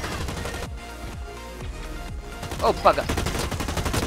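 Rapid gunfire in the shooter game Blacklight: Retribution rattles in quick bursts of sharp shots, loud and close, while a player briefly mutters over the shooting.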